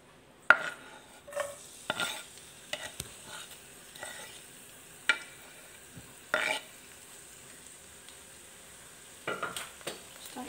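Garlic is sautéed in a pan for a beef teriyaki dish, with a quiet background sizzle broken by sharp, irregular clatters and scrapes of a utensil against the pan, close by and without speech.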